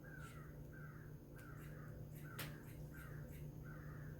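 Crows caw in a regular rhythm, several calls in a row at moderate distance, over a faint steady hum and a single sharp click.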